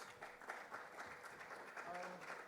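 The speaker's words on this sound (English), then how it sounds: "Round of applause, please." Conference audience applauding a speaker called to the stage at a cybersecurity summit, a steady wash of clapping from many hands at moderate distance, with a voice speaking briefly over it.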